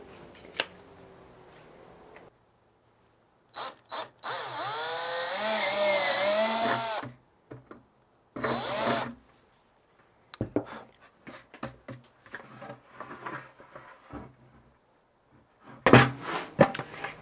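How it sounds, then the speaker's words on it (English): A power drill whirs in several bursts while drilling holes in a bucket, one long sustained run in the middle and shorter spurts before and after, with clunks and handling noise between. "Okay, so I got my 5 holes drilled in here."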